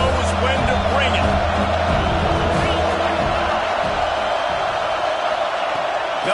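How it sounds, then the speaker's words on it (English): Stadium crowd in a football video game, a steady roar of cheering and noise that holds loud throughout, while a commentator talks over it. "This crowd knows when to bring it."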